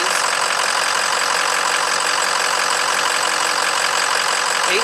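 A 2004 Ford F450 PowerStroke diesel runs steadily nearby, a loud, dense, unbroken engine drone with a broad noisy rumble and no talking.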